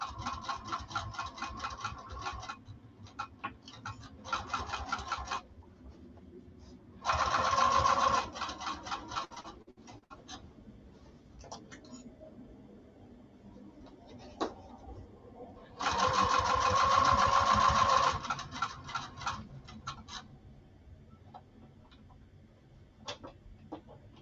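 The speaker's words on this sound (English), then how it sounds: "I am sewing the long edge first, and then I'll sew the sides." A sewing machine runs in two sustained bursts along the long edge of a bulky, squishy fabric project, separated by quieter handling noises and pauses, close and fairly loud.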